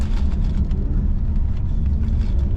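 A car runs an autocross course at Pitspitters Park, Traverse City, Michigan, with the engine held at full throttle, a loud steady low roar heard close from inside the cabin with no pause.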